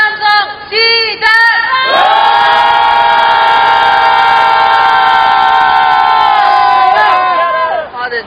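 A protest crowd at a rally against the Korea-Japan agreement on comfort women lets out a long, loud sustained roar of angry shouting, swelling after a brief pause and holding steady for several seconds before fading.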